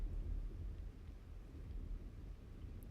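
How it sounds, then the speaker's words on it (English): Thunder rolls through the SCUM survival game, a low, continuous rumble with faint rain and wind texture, heard alone without talk. "Oh, that was the thunder."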